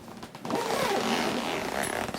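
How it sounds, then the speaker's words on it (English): An industrial zipper on a grow tent gets pulled open in one long, close, rasping stroke lasting about two seconds, following a brief rustle of fabric. "These things have industrial zippers."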